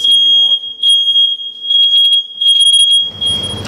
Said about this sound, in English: Sorry about that fire alarm.